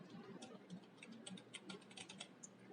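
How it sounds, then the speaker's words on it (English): Quiet, quick keystrokes on a computer keyboard pattering in an irregular rhythm, close by and faint, with no talking. "Now I will type the word computer."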